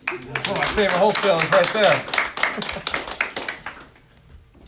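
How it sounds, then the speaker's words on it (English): Audience round of applause at a real estate business seminar, scattered claps rising under someone talking, then thinning out to a few final claps. "Give Josh a round of applause."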